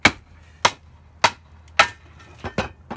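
Sharp metallic strikes from a big hammer on a homemade firewood cracker ring out at a steady pace, four evenly spaced hits followed by a quicker cluster of lighter taps, close and crisp.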